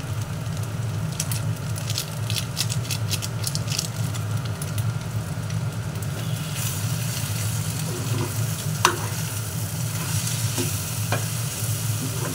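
Rice with Maggi masala stir-fried in a pan, a steady low sizzle with bursts of clinking, scraping spatula strokes, then a brighter hiss and an occasional sharp knock, close and without talk.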